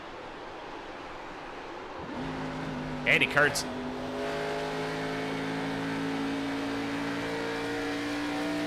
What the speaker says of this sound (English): You can hear he was using the engine braking.